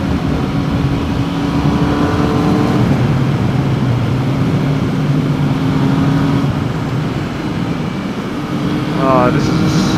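A Triumph Speed Triple R motorcycle engine pulls under load while riding, a loud steady drone with wind rush and rising engine tones, close to the mic.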